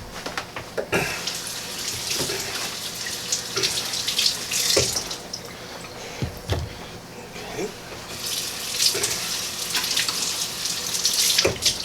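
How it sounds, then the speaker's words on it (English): Tap water runs steadily into a sink while cucumbers are rinsed of their seeds, a continuous close splashing with brief clunks and knocks of handling, no voices. "Let me rinse these off."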